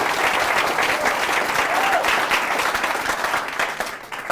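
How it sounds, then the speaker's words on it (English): A small but loud crowd at a Bernie Sanders organizing event applauds vigorously and without a break, the clapping staying full and bright before thinning slightly at the end. "It's a small but loud crowd."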